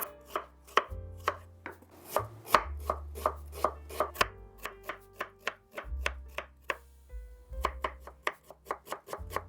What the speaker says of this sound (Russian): лук надо мелко порезать